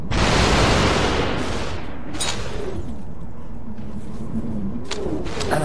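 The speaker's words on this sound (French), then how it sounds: "je vais tirer des 2 côtés à la fois" Dual pistols fired at once in the VR game SUPERHOT, a loud burst of gunfire up front followed by softer shot bursts and ringing game effects, with no talk.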